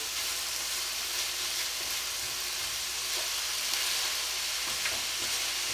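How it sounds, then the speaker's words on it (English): Italian sausage sizzles and fries steadily in a pan, with soft scraping and stirring sounds scattered over the continuous crackle, close and fairly loud, no talking. "Let me get my sausage stirred up a little bit here."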